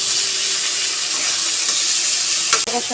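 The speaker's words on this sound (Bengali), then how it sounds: "মাছটা দিয়ে দেওয়া হয়েছে এবারে আর একটু ভাজা ভাজা হলেই নামিয়ে দেবে" Loitta (Bombay duck) fish fries in hot oil in a pan, giving a loud, continuous close-up sizzle, with a short utensil clatter near the end.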